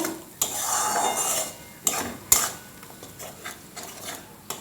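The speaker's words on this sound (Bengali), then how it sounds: "মশলাটাকে কিছুক্ষণ কষাবো।" Mustard spice paste for tilapia curry is sautéed and stirred in hot oil, a soft sizzle beneath scraping and clinking of a utensil against the pan, with a few sharp knocks in between, close and without voices.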